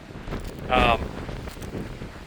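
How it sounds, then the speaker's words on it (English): Wind buffets the microphone in a steady rough rumble, with a sharper gust-like burst partway through. "it's so windy"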